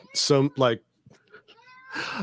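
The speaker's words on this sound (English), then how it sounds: "That's the cat." A demanding, very vocal pet cat meows twice in quick close succession, loud and clear, followed by a quieter pause with faint sounds and then a burst of noise near the end.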